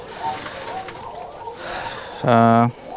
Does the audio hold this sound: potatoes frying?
no